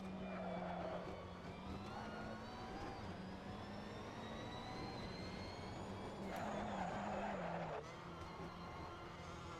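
A GT3 racing car in the game Assetto Corsa, entering the pit lane, with a steady engine drone and tonal whine that shifts pitch as it slows, plus brief bursts of tyre noise.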